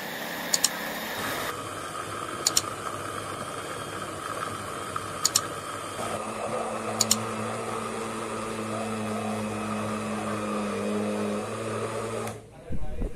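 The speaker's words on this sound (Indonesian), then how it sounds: "di sini saya akan menggunakan blender saja" Kitchen blender grinding peanut sauce spices with added water for chicken satay: a steady mechanical whir with a constant hum that runs for several seconds, shifts pitch partway through and then cuts off near the end, with faint ticks over it.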